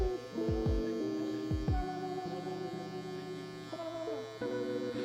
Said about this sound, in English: I'm taking the clipper away from his head as I go up.